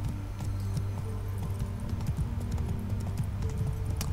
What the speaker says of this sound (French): le cheval fait un truc vraiment chelou là